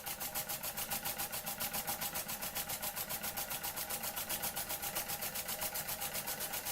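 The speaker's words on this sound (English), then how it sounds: "The first little steam engine I've actually built completely from scratch." A small scratch-built model steam engine with a Mammoth flywheel runs steadily, producing a fast, even, mechanical chuffing and ticking rhythm. The sound is close, continuous and unchanging in pace.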